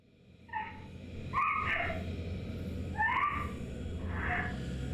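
A dog whimpers and yelps in the Fatal Frame 4 video game, several separate high whining cries in short bursts over a low steady background hum.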